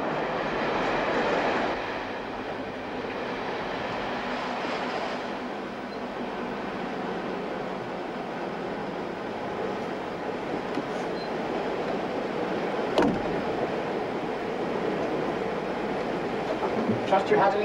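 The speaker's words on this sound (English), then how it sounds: "Train should be coming in any minute now." A train pulls into a station, a steady rumbling rail noise with a sharp clank near the middle, heard at moderate loudness and continuing throughout.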